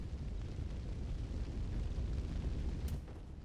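A torch sets an area ablaze in the video game Dark Souls III, giving a low, continuous roaring rumble of fire that holds steady and tapers slightly near the end.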